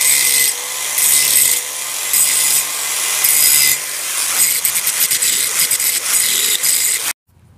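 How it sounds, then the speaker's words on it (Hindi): An angle grinder smooths a welded steel handle clamp on a bicycle, grinding loudly and steadily with slight surges for about seven seconds before cutting off abruptly. "अब इसकी ग्लेंडर से घिसाई करूँगा, इसको बराबर करना है वापस"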